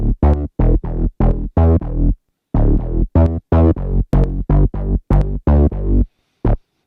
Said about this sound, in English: So now this is what the bass sounds like.